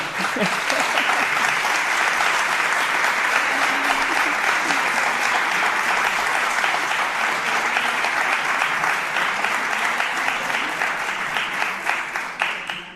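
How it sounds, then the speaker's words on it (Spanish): Sustained applause from a live studio audience fills the room, steady and dense for the full length before tapering slightly at the end. "A mí ya con ese aplauso solo me queda decir que vamos a seguir contando historias"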